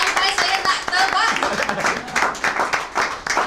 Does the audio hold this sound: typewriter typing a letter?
no